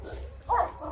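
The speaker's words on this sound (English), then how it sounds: "K9 deployed." A police K9 dog on deployment gives a single short bark, moderately loud, over a low background rumble.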